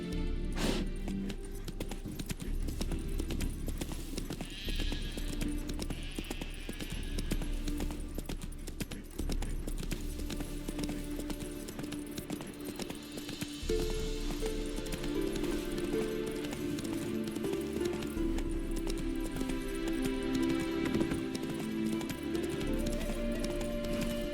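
Horse hooves galloping steadily in The Witcher 3, a continuous rapid clip-clop close by over a dense game ambience, with no talking.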